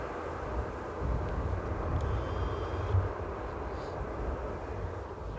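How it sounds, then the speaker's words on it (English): A Qatar Airways Boeing 777 cargo plane on approach to Amsterdam's Schiphol Airport gives a steady, fairly distant jet roar that holds evenly throughout, with no voices. "And we have beautiful Qatar 8212 on approach. Nice 777 cargo."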